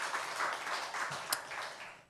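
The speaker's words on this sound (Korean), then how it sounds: "우리 하나님께 영광의 박수 올려드리겠습니다." A church congregation claps in praise during a Sunday worship service, a brief rippling round of applause at moderate distance that swells and fades over about two seconds.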